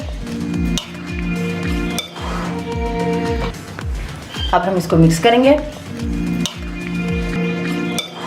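Spoon clinking and scraping against a bowl while chopped fruit chaat with pomegranate seeds is tossed together, a steady series of close, bright taps and clinks with a brief voice in the middle.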